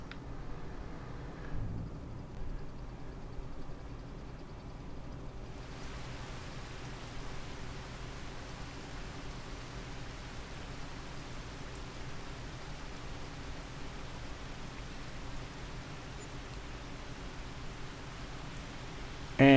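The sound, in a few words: rain starting to fall in a farming video game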